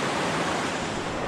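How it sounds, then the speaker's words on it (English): Steady broadband rush of the Little River, a stream near a town, flowing continuously with a dense, even hiss and no breaks, close and fairly loud. "This is the Little River. It's the water source for the town of Bethlehem"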